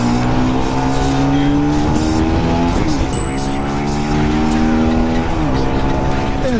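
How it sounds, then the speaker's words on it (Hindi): Bajaj Pulsar NS 200 BS3 motorcycle engine accelerating hard, loud and close, its rising harmonic whine climbing steadily with brief dips at gear changes around three and five and a half seconds, with no talk over it. "इसकी आवाज़ से आपको पता चल रहा होगा कि इसका इंजन"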